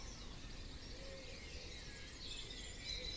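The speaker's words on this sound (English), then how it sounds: "as the birdsong begins" Faint birdsong chirps and trills over a quiet, hissy outdoor background, with thin high calls scattered through the distance.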